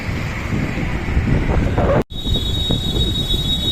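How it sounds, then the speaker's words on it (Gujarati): Strong wind buffeting the microphone outdoors on a Saturday evening in a continuous rough roar, briefly cutting out midway, then returning with a thin high whine. "કેટલો બધો પવન આવે છે"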